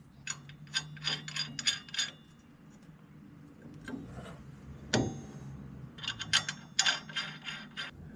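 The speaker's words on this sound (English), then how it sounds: "we'll take a couple lug nuts and tighten them down to hold it in place" Lug nuts are run down by hand onto the hub of a fifth-generation Camaro to seat a new brake rotor, with bursts of rapid ratcheting clicks, a pause, then more ratcheting, close and fairly quiet.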